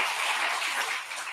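A church congregation at a Sunday morning worship service applauds the children's department staff, a short, steady wash of clapping from many hands that fills the room evenly with no voices over it.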